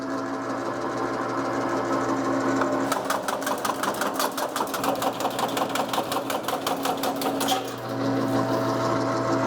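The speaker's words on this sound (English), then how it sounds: "run it through the tab notcher to put the tab on the 5/8 side" A sheet metal tab notcher set to a 5/8 inch depth cuts tabs, a fast, steady mechanical chatter of rapid repeated clacks over a low motor hum, close and loud for several seconds before stopping.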